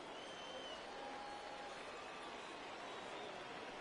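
Baseball stadium crowd in a PS4 baseball video game rising for a 3-2 count, a dense, steady roar of cheering fans held at an even level throughout.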